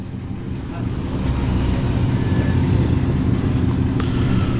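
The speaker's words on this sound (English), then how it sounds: "Got a V8 Burble, much modified PA Velox" A much-modified Vauxhall PA Velox with a V8 gives a deep, steady low burble at a classic car meet, rumbling continuously close by under wind noise and outdoor chatter.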